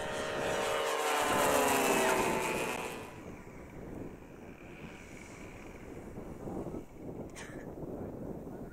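A plane in a low flyover at the Pohoda Air Show 2014 in Dunajská Streda gives a loud, sustained engine roar. The roar peaks early, then recedes into a steadier wind-buffeted drone.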